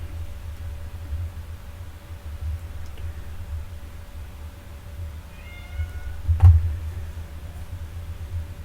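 A cat gives one short, faint meow in a quiet room, followed moments later by a soft thump.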